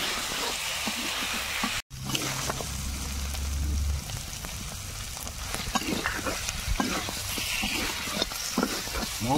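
Chicken meat frying in a pan, a continuous close sizzle with stirring scrapes and crackles throughout, briefly cut by a sharp dropout near the start.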